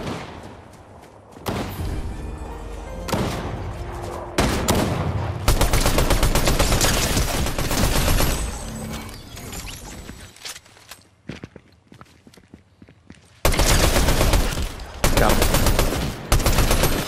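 Gunfire in the Fortnite video game, with loud bursts of rapid shots and heavy thuds coming in dense waves, then briefly dropping away before another loud volley.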